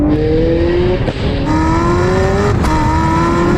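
A Zenvo TSR-S supercar accelerates hard. The loud engine note climbs steadily and is cut by sharp, cracking gear changes about every second and a half, heard close up.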